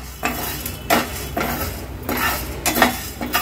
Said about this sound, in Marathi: नंतर हे जे हिरवे अख्खे मूग घेतले ते पण असेच आपण भाजून घेणार आहोत।